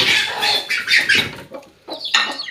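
Young chicks clucking and peeping close by while being fed starter feed at night, a quick run of bright chirpy calls with a short pause before more calls resume.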